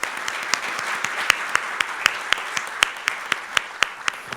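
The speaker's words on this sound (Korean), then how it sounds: "우리 오갑수 회장님께 박수 한번 보내드리도록 하겠습니다." An audience at a Korean financial policy forum applauds, with distinct individual claps ringing out sharply and fairly evenly over a continuous bed of clapping.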